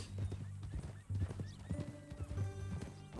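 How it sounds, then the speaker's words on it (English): Horse in Red Dead Redemption 2, with close, steady clip-clop hoofbeats in a repeating rhythm and a whinny breaking in partway through. "That a new horse?"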